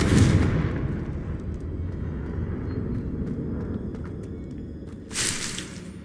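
A Confringo blasting spell in the video game Hogwarts Legacy erupts with a deep booming blast that rolls into a long low rumble, and then a second, shorter burst follows near the end.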